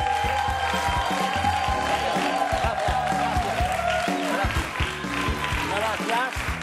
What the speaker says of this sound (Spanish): Recibamos con un fuerte aplauso a Damián, el filósofo del programa.